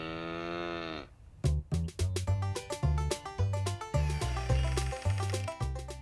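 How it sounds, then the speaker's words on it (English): A cow lets out one long, full moo at the start, followed by bright, bouncy children's music with plucked and percussive notes. "Cow."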